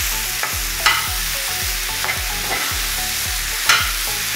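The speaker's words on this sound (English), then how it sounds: "just want to give this a little stir." Okra bhaji frying in a pan is given a stir, with steady rhythmic scraping and tossing over a continuous loud sizzle, close by and with no voices.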